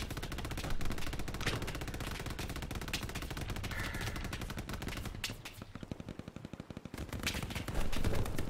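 Machine gun fire in Hell Let Loose, long rapid bursts of automatic shots, loud and close, with a brief lull before another heavy burst.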